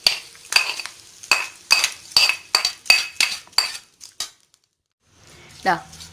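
A metal spoon clinks repeatedly against a bowl while tempering is mixed into curd rice, a quick run of about ten sharp taps followed by a pause and one softer scrape, close and loud with no talking.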